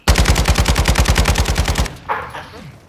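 A minigun in a video game fires a rapid, even burst of about twenty heavy shots over nearly two seconds, loud and close, then cuts off, leaving a brief fading tail.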